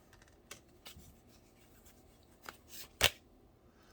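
Tarot cards are shuffled and handled quietly up close for a reading, a few soft scattered riffles and slaps with one sharper snap near the end.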